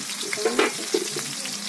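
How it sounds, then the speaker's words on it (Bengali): Prawns frying in oil in a wok, a steady broadband sizzle with a few soft stirring clinks, close and moderately loud, no voices. "চিংড়ি মাছগুলো ভেজে রাখছে"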